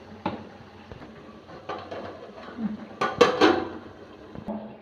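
Metal pan lid lifted off a pan of broken-egg curry on a home stove, a light clank followed by a brighter rattling clatter of metal near the end, with quiet kitchen background.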